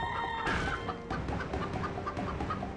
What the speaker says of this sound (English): It just turns us into a chicken, and we shoot explosive eggs out.